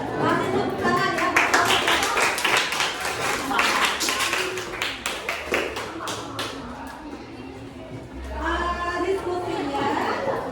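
An audience at an Indonesian teachers' academic supervision session claps in a rapid, uneven patter of hand claps, with people chattering throughout and a short pause before another burst of clapping.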